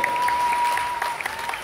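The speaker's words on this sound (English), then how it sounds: "applause." Applause for golfer Jacqueline Lai at the Hong Kong Jockey Club Trophy, a steady patter of clapping hands from a small crowd, sustained and fairly even throughout.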